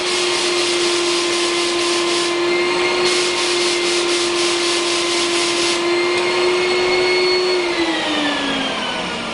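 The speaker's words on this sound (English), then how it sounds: "I'm going to turn my air up, just the air." An HVLP paint spray gun blows air only with no paint, giving a steady, loud, close hiss that runs throughout, carried on a constant motor-like drone.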